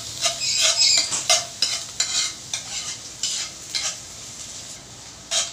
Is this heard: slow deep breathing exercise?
no